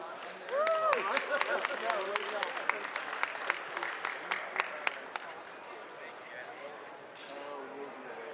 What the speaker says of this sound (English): Please welcome the two to the stage. Give them a round of applause.